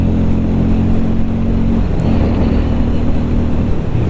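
Hero Hunk 440 motorcycle under hard acceleration, a loud, dense, steady engine roar with strong wind noise throughout, pitch shifting slightly midway.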